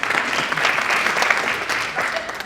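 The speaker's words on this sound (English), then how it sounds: "So give yourself a round of applause." A group attending an improv session applauds itself, a dense, lively burst of clapping from many people in a room that carries on evenly throughout.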